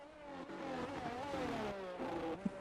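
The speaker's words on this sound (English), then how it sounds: "We are on board with Antonelli as he heads down the Richigamme chicane." Mercedes Formula 1 car on an onboard run at Monza, its engine droning steadily at high revs with rising and falling harmonic pitch through the Ascari chicane, loud and close with no talk.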